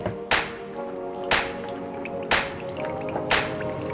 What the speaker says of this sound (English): This is just a few drops of Dawn dish soap and some stirring.